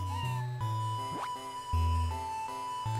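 A black cat in the 4 Heroes of Light video game gives a few short synthesized meows amid chiming game music, with no voices.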